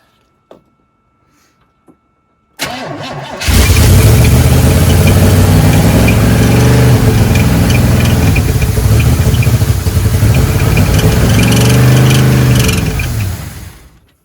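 An old Chevrolet Blazer, left sitting since 1997, cranks and fires into a loud, steady high idle close by, the engine droning on for about ten seconds before cutting off.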